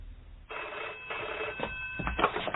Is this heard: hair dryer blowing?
no